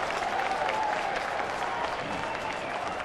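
Ballpark crowd cheering and applauding at a Milwaukee at Pittsburgh baseball game after a batter is hit by a pitch, a steady, dense roar of many voices that holds loud throughout.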